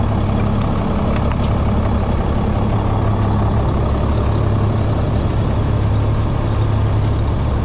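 A truck engine idles loudly and steadily throughout, with a constant low rumble and no breaks.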